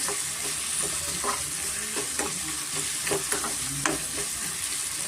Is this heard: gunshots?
no